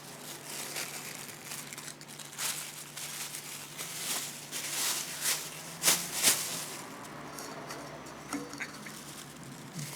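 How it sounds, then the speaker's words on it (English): A clean plastic bag crinkles and rustles close up as eggs are placed in it for dry-cured salted eggs, with irregular crackling bursts growing louder midway and then settling. "I'm going to put this in a plastic bag."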